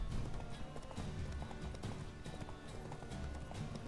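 Rapid rhythmic hoofbeats of a galloping horse in The Witcher III: Wild Hunt, steady and close, over a busy game soundscape.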